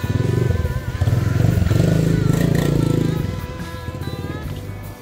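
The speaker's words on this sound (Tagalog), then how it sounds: "May motor." A motorcycle engine rumbles close by and then fades as it passes, with a loud pulsing drone over street clatter near a large Catholic basilica in Taal.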